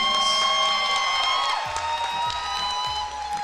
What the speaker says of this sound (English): Give a round of applause to show our appreciation